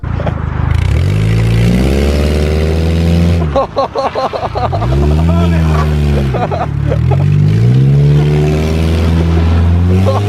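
A car with its back wheels swapped for cart wheels drives past loudly, its engine droning and revving up and down in long sweeping pitch glides, the rough roar staying close and dominant throughout.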